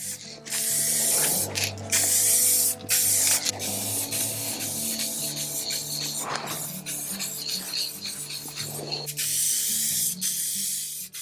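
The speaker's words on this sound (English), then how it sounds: "As I was spraying the top coat on the sewing box" A spray can hissing top coat onto a sewing box close-up in several long bursts separated by brief pauses, with faint rattling in between.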